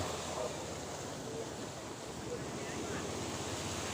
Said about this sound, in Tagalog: talagang malakas yung alon